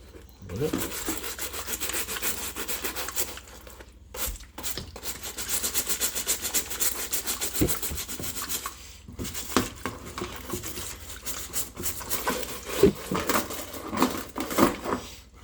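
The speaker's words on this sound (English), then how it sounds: "the brush is really good at getting inside the boot studs" A stiff brush scrubs mud from the studs of a football boot in quick rasping strokes, coming in bursts separated by short pauses.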